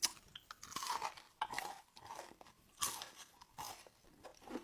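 Someone bites into a crispy Algerian almond samsa pastry, with sharp close crunches followed by several rounds of crackly chewing and no talking.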